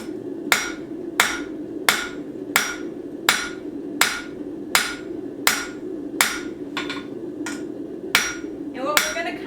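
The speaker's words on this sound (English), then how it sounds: "we're actually going to kind of hammer specifically on the one side" A hammer strikes a butter knife blank while forging a taper on one side, about a dozen loud, sharp metallic blows landing in a steady, evenly spaced rhythm over a low background hum.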